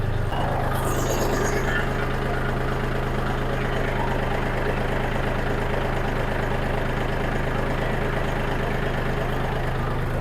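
A homemade animal-feed grinder's motor drones steadily and loudly throughout, a constant mechanical hum with a grinding rattle close to the microphone.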